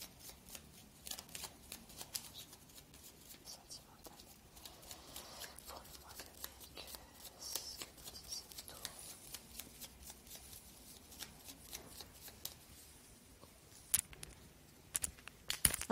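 Tarot cards shuffled and drawn, a long stretch of soft, close papery shuffling and flicks with a few sharper snaps, faint overall, under quiet low speech.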